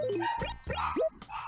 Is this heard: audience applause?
no